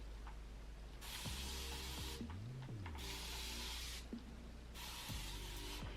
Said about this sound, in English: I love this continuous spray bottle.